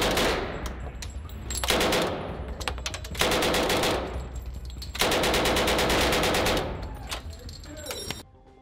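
An M3A1 grease gun submachine gun fires several long automatic bursts, a loud, fast, continuous rattle with short pauses between strings of fire.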